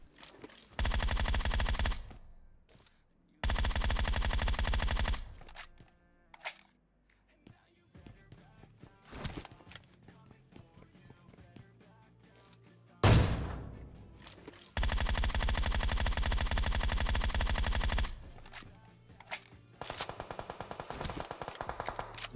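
Long sustained bursts of rapid automatic gunfire in PUBG Mobile, loud and close, separated by brief pauses and scattered single shots.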